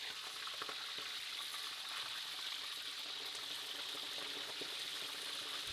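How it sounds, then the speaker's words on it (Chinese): A fish head fries in hot oil in a large wok, giving a steady, close sizzling hiss with faint crackles throughout and no talking. "当我们的这个油烧热了之后，我们要来炸我们的鱼头。"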